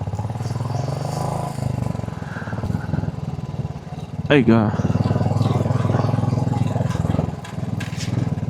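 Motorcycle engine droning steadily during a ride on a highway past farmland, with someone talking over the hum and a brief high whine partway through.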